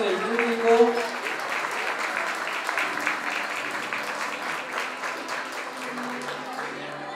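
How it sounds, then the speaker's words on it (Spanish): An audience applauds at a school graduation party, a steady wash of clapping at moderate loudness, with a voice speaking briefly at the start. "el aplauso del público"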